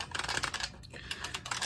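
Rapid typing on a Zeal Clickiez keyboard, a dense run of close, bright clacking keystrokes with a brief pause midway.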